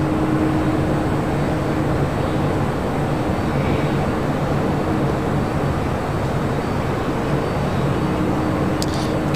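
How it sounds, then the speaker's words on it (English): KLM airliner on its takeoff roll at Los Angeles airport, bound for Amsterdam: a steady, loud broadband engine roar with a low hum, continuous and unchanging, heard from a distance. "KLM looking like a north side takeoff here today."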